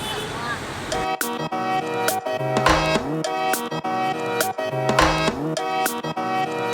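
Several car horns toot in short bursts over steady city traffic noise, loud and close, with a tonal music-like layer running underneath.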